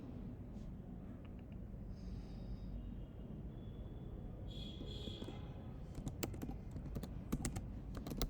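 A project name is typed on a computer keyboard during an app-building session, with a brief run of light, quick key clicks near the end, faint and close over quiet room tone.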